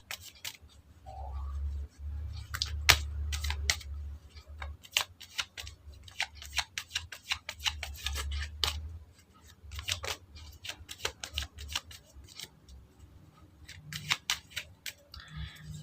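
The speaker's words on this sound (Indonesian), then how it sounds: "Oke, kita shuffle kartunya." Tarot cards being shuffled by hand during a reading, giving a steady run of crisp, close riffling snaps and taps at an irregular rhythm over a low background hum, with no talking.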